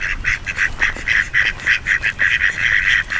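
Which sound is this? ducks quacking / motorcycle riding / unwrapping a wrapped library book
ducks quacking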